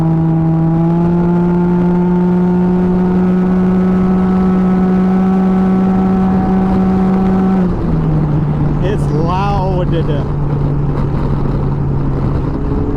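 A Can-Am Ryker three-wheeled motorcycle runs at full throttle on a road ride in Texas, with a loud, steady engine drone and wind rush. The pitch drops sharply partway through at a shift, then settles into a lower roar.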